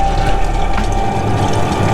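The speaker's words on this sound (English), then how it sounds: "You just actuate the pump." A liquid pump on a twin turbo car kit runs, pushing fluid through the system with a loud, steady gushing whoosh and a low churning rumble for about two seconds, with no voices.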